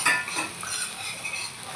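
Chopped onions fry in a pan while being stirred with a spoon, giving a soft steady sizzle with faint scraping, heard up close and alone.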